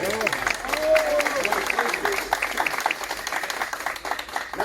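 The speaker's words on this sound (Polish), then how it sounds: "Brawa dla" Audience applause at a Civic Coalition parliamentary campaign event in Chrzanów, a steady round of clapping with voices and chatter underneath that thins out toward the end.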